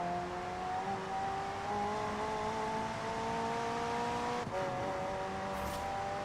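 Engine of a McLaren hybrid car in Forza Horizon 4, a steady high droning whine with rising and shifting pitch as it accelerates, loud and continuous throughout.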